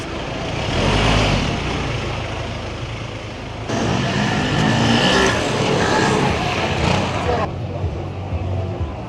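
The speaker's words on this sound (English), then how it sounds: "And the flipping presence of cars" City street traffic in Naples, with a steady roar of passing cars and engines close by that swells midway, while someone talks over it.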